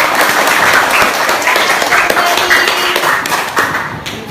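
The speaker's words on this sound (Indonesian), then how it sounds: "Oke, tepuk tangan semuanya." A class of children claps their hands together, a loud, dense run of claps with an uneven rhythm that fades slightly toward the end.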